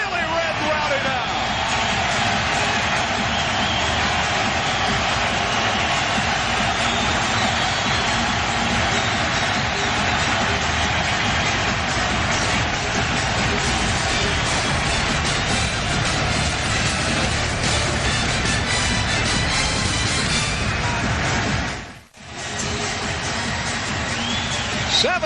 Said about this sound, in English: Listen to this crowd. It is really red and rowdy now.